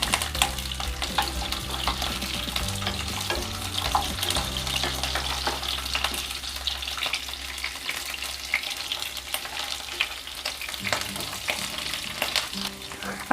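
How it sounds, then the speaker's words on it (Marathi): Chopped onion frying in a pan for dum aloo, a steady close sizzle broken by scraping stirring strokes, loud and continuous with no talk over it. "आता आपला दम आलू थोडा रेडी आहे आणि त्याच्यात आपण आता चिरलेला कांदा टाकूया।"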